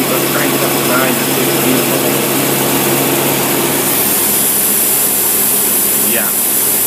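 A marine boat engine fitted with a Rochester carburetor runs loudly and steadily close by, a constant broadband roar with slight rises as it is revved in and out, and no pauses.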